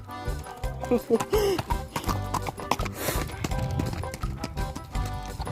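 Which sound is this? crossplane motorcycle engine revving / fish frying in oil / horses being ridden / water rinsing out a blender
horses being ridden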